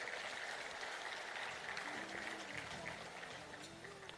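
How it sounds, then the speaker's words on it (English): An audience at an engineering alumni reunion in Kochi applauds its sponsors, a faint, dense wash of clapping from a distance with a murmur of voices mixed in. "A big round of applause for our sponsors."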